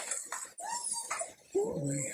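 Woody, a dog inside a 2023 Ford Transit Custom Nugget campervan, lets out short whiny yips and whimpering barks, close and fairly loud, mixed with a person speaking.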